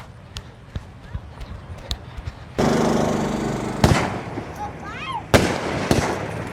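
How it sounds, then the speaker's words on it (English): Fireworks go off on the ground for an Independence Day celebration, sharp pops and cracks breaking through a dense fizzing burst, with voices chattering in the background. "let's see the fireworks"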